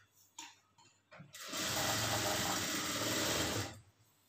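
Sewing machine stitching a plain blouse seam, a few faint handling taps at first, then a loud, close, continuous motor whir for about two seconds before stopping, no voices.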